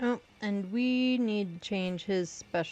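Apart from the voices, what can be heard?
No everyday noise stands out behind the speech.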